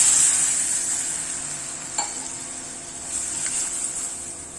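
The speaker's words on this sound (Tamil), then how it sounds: "இந்த ஸ்டேஜில் பால் 1 டம்ளர் அளவு ஊற்றிக்கிறேன்" Milk poured into a pan of fried flattened rice (aval) for aval payasam, a steady hissing sizzle that slowly fades, with a couple of faint clinks, close and without talk.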